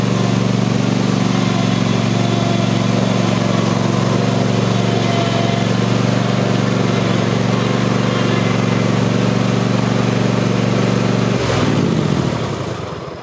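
A Cub Cadet lawn mower engine runs at a loud, constant drone close by while mowing tall, wet grass, then the tone drops suddenly near the end as it throttles down.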